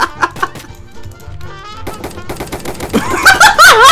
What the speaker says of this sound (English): Who the heck is shooting me now?!